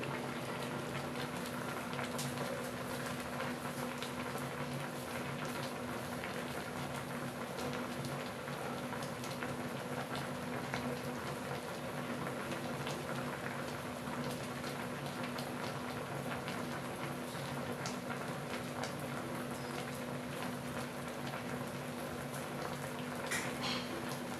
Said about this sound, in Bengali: কাজুটা দেওয়ার পরে 5 মিনিট ফুটিয়ে নিতে হবে